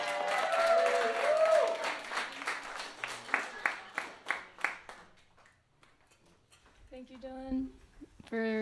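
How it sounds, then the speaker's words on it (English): Applause welcomes the final opening act at a small launch concert, starting as a crowd and thinning into a few distinct, spaced claps that fade out, followed by faint tones and a voice at the end. "let's give her a warm welcome and applause"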